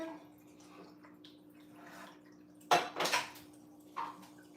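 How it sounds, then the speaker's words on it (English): Coffee pot grabbed off a stove while warming, a few sharp metallic clanks and scrapes over a quiet room hum, close and brief. "I'm actually going to check my coffee."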